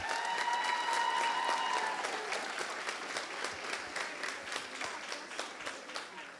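At a middle school spring orchestra and chorus concert, the audience applauds the 8th graders with steady crowd clapping that swells and then gradually fades, a held tone ringing out briefly at the start.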